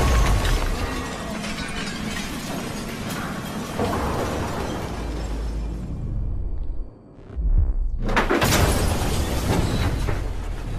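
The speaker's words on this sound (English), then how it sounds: "Oh, smashing the storefront." A storefront window is smashed in the video game Detroit: Become Human, with dense, loud crashing and shattering glass filling most of the stretch, a brief lull, then another heavy burst of breaking debris.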